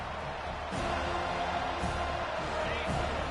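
Crowd noise from a stadium in the College Football 25 video game, a steady broad roar that swells slightly partway through and continues under game commentary.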